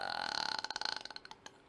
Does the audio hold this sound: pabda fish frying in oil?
no